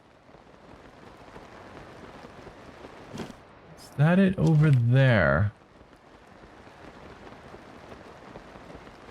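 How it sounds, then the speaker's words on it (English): Soft, steady rain falls in the video game Zelda: Tears of the Kingdom, a faint wash of patter that continues under a short stretch of close talking in the middle. "the weather says it's raining"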